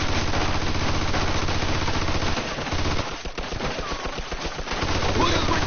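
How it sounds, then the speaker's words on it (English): Loud, sustained machine gun fire in Mafia II, a dense rattling stream of rapid shots, briefly broken into separate bursts in the middle before continuing full and close. "Looks like we found the machine gun."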